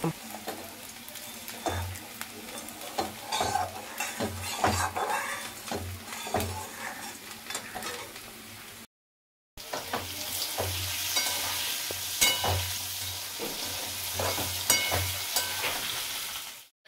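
Potatoes fry in hot oil in a kadai wok, a continuous loud sizzle with frequent scraping and stirring clatter, briefly cut by a moment of silence before the sizzling resumes.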